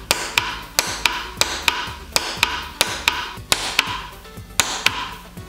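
A Sunstone Orion 150s micro TIG welder fires rapid spot welds, a regular train of sharp, crisp snapping pulses about twice per second, close and clear.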